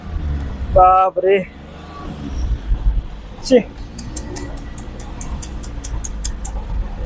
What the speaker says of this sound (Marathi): अरे पूर्ण रेस केली गाडी तिथे